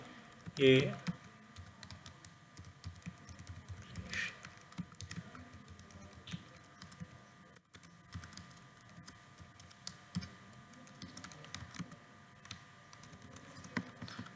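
Soft keystrokes on a computer keyboard as C++ code is typed, faint and scattered over low background noise, with one louder bump near the start.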